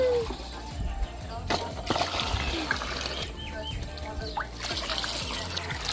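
Water trickles and splashes as it is poured into a toy swimming pool, a continuous dribbling flow heard close by with birds and background voices around it.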